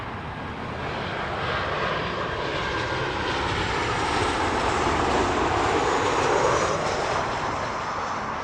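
An airliner on arrival at Heathrow passes with a broad engine roar that builds gradually, peaks near the end and then begins to ease. The sound is loud and continuous, with no talk over it.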